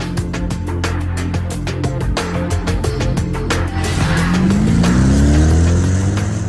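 A high-speed Mercedes-Benz car engine runs with a rapid, pulsing rhythm, then rises into a louder, sweeping rev partway through, sounding close and continuous.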